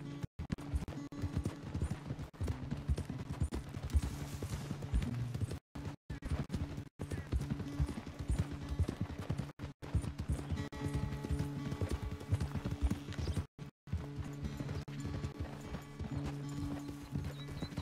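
Horse hooves clip-clop steadily under a rider in Red Dead Redemption 2, a continuous rhythmic gait over quiet game music, with occasional brief gaps and a faint whinny.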